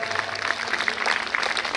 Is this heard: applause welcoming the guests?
yes